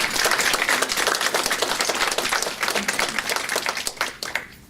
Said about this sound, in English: so please give Richard a well-deserved round of applause